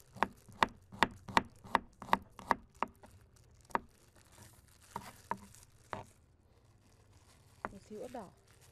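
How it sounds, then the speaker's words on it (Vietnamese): A knife mincing garlic on a cutting board gives a quick series of sharp chops, about a dozen evenly paced, then sparser taps, all fairly quiet and close, with a voice briefly heard near the end. "Bây giờ mình băm cái tỏi này ra."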